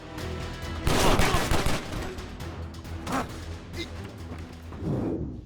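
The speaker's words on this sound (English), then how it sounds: "Also, assault rifle. Why not?" Assault rifle fire in the game Stranglehold, a loud burst of rapid shots early on followed by scattered bangs and a later flurry, heard alone without talking.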